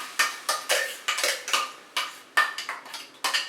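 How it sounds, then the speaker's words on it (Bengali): A metal utensil scrapes and taps against a hot wok holding a coconut and sugar mixture, a run of about a dozen short, clattering strokes at an uneven rhythm, close and alone. "এবারে কড়াই গরম করে আমি এই মিশ্রণটা কড়াইয়ের মধ্যে দিয়ে দিলাম।"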